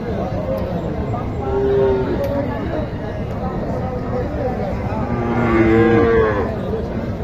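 A Sahiwal cow moos twice at a cattle market, a long low call early on and another later, amid the murmur of a busy crowd and people talking nearby.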